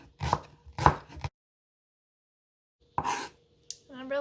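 Leeks being sliced with a knife on a board, a few crisp close cuts in two short bursts separated by a long silence, ending with a faint high squeak.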